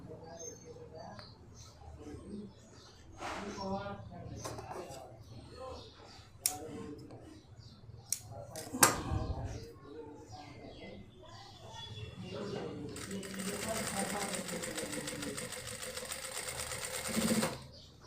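A sewing machine stitches the torn corner of a pants pocket in bursts, with speech over the first half, then runs more steadily near the end.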